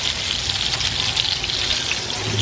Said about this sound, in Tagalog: Prito ng hotdog